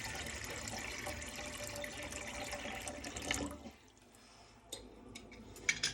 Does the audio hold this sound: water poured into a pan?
yes